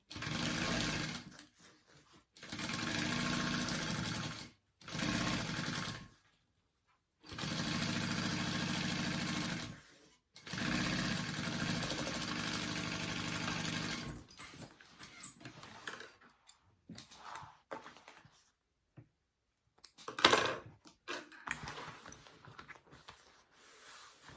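A sewing machine stitches a tote bag seam with a 3/8 inch seam allowance, running in several loud, steady bursts separated by short pauses, then quieter handling clicks and rustles toward the end.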